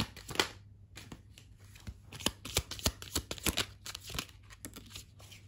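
Tarot cards being shuffled by hand in a quiet room, a run of crisp riffling and slapping bursts, close and fairly soft.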